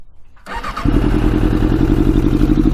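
A custom Yamaha Banshee two-stroke engine fitted with a stage 4 jet kit starts after a brief crank, catching quickly and settling into a loud, steady, close-up run.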